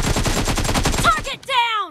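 AKM rifle firing on full auto in the video game PUBG: a rapid, loud, evenly spaced burst of shots for over a second, then a brief gap and a final shot with a ringing tail.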